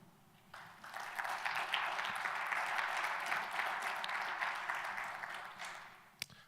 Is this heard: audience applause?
yes